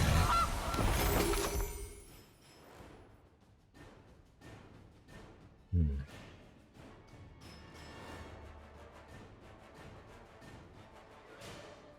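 A goose honks repeatedly in the card game MTG Arena, loud, nasal calls in a choppy series after a burst of louder game noise, with a sharp crash partway through.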